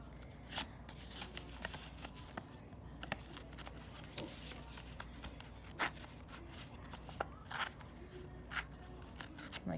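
Paper being torn by hand to free a folded sticker unit gives faint, dry ripping and crinkling with small scattered ticks, quiet and close, with no voices.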